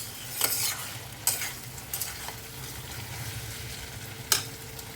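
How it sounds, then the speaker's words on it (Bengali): Spice paste for jackfruit curry being sautéed in a pan: a steady sizzle with a few sharp spatula scrapes at irregular intervals, close and moderately loud, with no talking. "কষানো হয়ে গেছে মশলা, 5 মিনিট মতন কষিয়ে তারপরে জল দেবো।"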